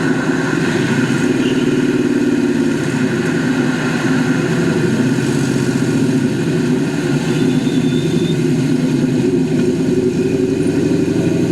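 A 1967 Chevrolet Camaro with a small block V8 and a four-speed manual drives at a steady pace, its engine rumbling loud and close without a break.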